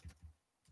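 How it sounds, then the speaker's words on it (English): Several soft keystrokes tap on a computer keyboard, faint and close, in a short, uneven burst with a brief pause between taps. "I'm typing."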